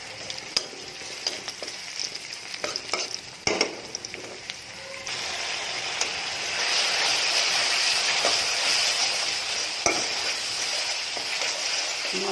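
Fish frying in hot oil alongside spices being sautéed in a second pan, a steady close sizzle and hiss that swells louder midway, with scattered clinks and scraping of utensils throughout.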